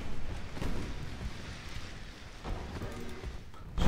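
Naval HE shell gunfire traded between warships in a French dreadnought battle game, heard as dull, rumbling booms at irregular intervals over a continuous low roar, with a louder blast at the end.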